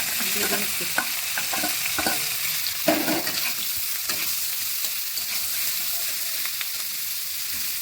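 Cauliflower and potato fry in oil in a wok, giving a steady crackling sizzle with repeated scraping stirs and clinks throughout, close and fairly loud, with no voices.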